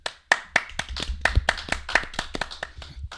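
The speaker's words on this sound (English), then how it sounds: "Round of applause for that one." A few people clapping for a returning guest on a podcast, about a dozen sharp, close, uneven claps that trail off quickly in a small room.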